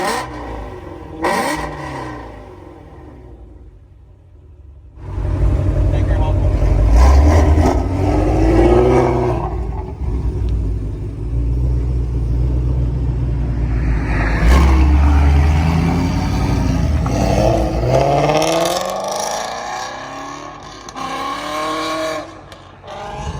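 A Ford Shelby GT350 V8 rumbles loudly at close range, surging through several hard revs and throttle blips with short quieter gaps between them and no voices over it.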